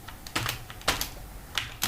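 Code typed on a computer keyboard while writing a C++ loop, with a few separate clusters of close keystrokes, crisp clicks coming in short bursts with brief pauses between them, alone.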